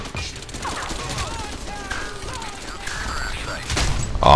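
Pistol gunfire and mechanical weapon sounds in the video game Crysis 3, with clicks and scattered shots over a busy game backdrop, a louder burst near the end, and some faint background sound.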